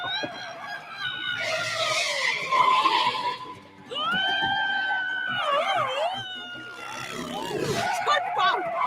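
Cartoon boat-car in SpongeBob SquarePants screeching as the brakes are hit, a series of loud wavering squeals and skids mixed with excited character voices and shouting.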